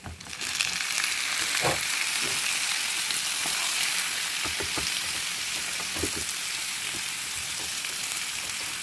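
Shrimp frying in garlic butter in a pan, with soy sauce poured in, giving a loud continuous sizzle with scattered pops and stirring scrapes, steady and close throughout.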